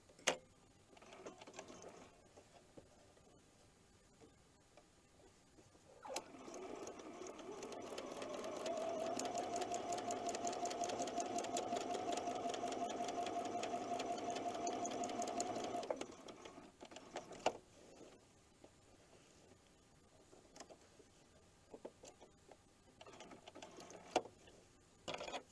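A sewing machine stitches applique petals with embroidery thread on a patchwork quilt block, running in one steady, fast whirring burst of about ten seconds between quieter handling noises, fairly close and alone.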